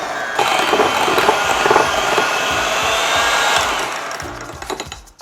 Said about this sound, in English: We're gonna go ahead and whiz this around with our hand mixer till everything's combined and creamy.